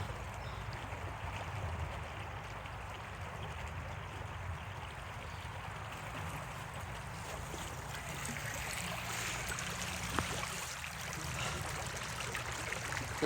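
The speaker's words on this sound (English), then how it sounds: "Water's just flowing down the creek." Water flows steadily down a creek in a continuous, even rush with no break, near and moderately loud.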